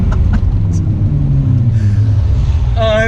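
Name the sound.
1990 Nissan Skyline R32 engine revving while driving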